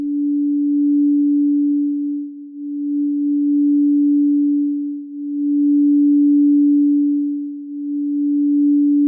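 A quartz crystal singing bowl tuned to F rings as a steady, pure sustained tone that gently swells and dips in loudness every couple of seconds, heard alone and clear.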